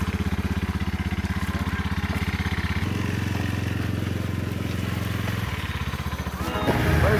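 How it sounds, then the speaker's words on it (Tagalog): Engine of a rented motorbike on Siargao island running steadily nearby, a continuous low throbbing idle that shifts pitch partway through, with a brief louder rumble near the end. "ito yung na-rent naming motor"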